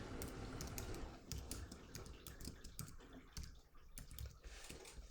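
Keys click on a computer keyboard in quick, irregular bursts, close and fairly soft, with short pauses between strokes and no talk.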